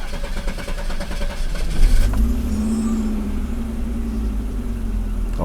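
An Audi 90 engine is shut off and restarted, the cranking burst giving way to a steady, close idle with a low constant hum lasting several seconds.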